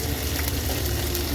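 Whole spices such as bay leaf, cardamom, cinnamon and black pepper sizzle steadily in hot oil for a chicken curry, a close, continuous crackling fry with no voices over it.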